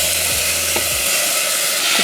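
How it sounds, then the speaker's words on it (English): Chopped vegetables sizzle in hot olive oil in a pan, a loud, steady close-up hiss and crackle running throughout, with faint scraping as they are stirred. "That's everything chopped down nicely, so we'll get those in the pan."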